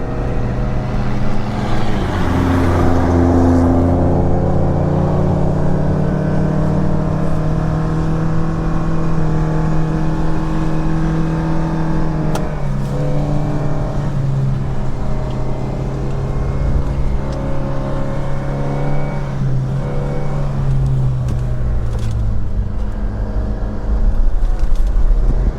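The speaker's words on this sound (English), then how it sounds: "from the sound and dust you can see that the first car just started," A Dakar Rally 2025 car starts up and drives off across desert dunes, its engine a steady loud drone with rising and falling harmonic tones throughout, heard from nearby with no talking.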